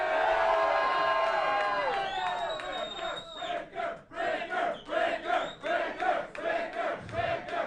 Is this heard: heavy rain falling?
no